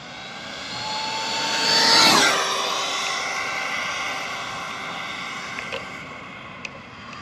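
A 1/7 scale Big Rock RC truck with a Castle Cobra 5 ESC on 3S power screams past with a rising then falling high-pitched motor whine, loudest at the pass, then fading away with a few faint clicks.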